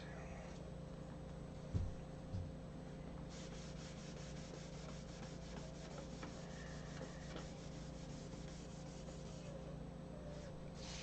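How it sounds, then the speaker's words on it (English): Faint, steady rubbing of 1500 grit sandpaper over a clear-coated surface, a low, even scratching in rhythmic strokes beneath a constant background hum, with a couple of brief knocks early on. "This is 1500 grit sandpaper"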